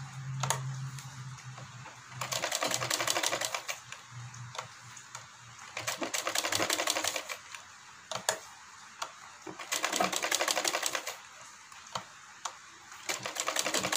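A sewing machine stitches the hem of a salwar in repeated rapid runs of needle clatter, each lasting a couple of seconds, separated by pauses with faint handling noises, close and fairly quiet.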